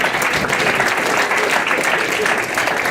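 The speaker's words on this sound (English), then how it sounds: "give them a round of applause" An audience at a stage hypnosis show gives a round of applause, dense continuous clapping filling the room at close range, with faint voices mixed in.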